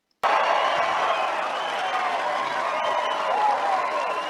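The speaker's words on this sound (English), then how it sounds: "And listen to the applause." Large crowd applauding and cheering loudly and continuously at a political speech, a dense wash of clapping that starts abruptly and holds steady throughout.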